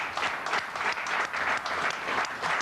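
A studio audience applauds Sandrine Bonner's arrival, a full, lively clatter of many hands that swells and dips slightly in waves, close and fairly loud, with no speech over it.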